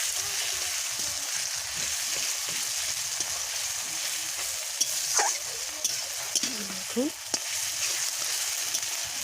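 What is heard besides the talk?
frying and stirring ginger garlic paste in oil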